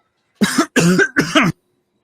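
Three harsh coughs in quick succession, close and loud, followed by silence.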